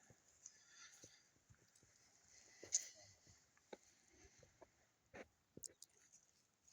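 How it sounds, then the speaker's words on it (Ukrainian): Quiet, scattered hoof clops from a horse on hard ground, irregular and fairly close, with soft rustling and faint voices in the background. "Коня звати Лисько."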